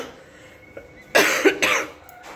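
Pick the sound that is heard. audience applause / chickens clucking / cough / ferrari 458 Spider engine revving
cough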